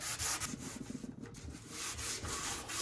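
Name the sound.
sanding and scuffing a 1958 Thunderbird steel oil pan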